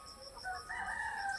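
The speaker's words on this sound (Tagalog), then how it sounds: "Pati mga manok sumasabay sa kanya." Chickens heard from a distance, with a rooster giving one faint, drawn-out crow in rising and falling tones, brief and fairly quiet.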